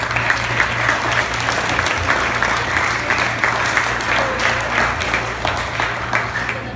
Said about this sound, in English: So a big round of applause to all of you.